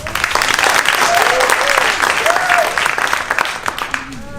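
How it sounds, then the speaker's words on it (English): An audience applauds after a one-act play performance, sustained clapping from a crowd with faint whistles or cheers riding on top, steady and fairly loud before tapering slightly. "another round of applause for Jacob's great show"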